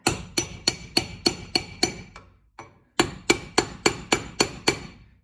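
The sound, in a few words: hammering F150 rear differential bearing into place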